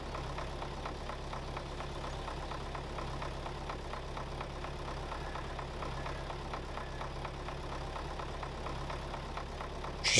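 An MTZ tractor engine idling steadily in Farming Simulator 22, unable to be shut off; a low, even mechanical rumble with a faint regular knock, constant and unchanging.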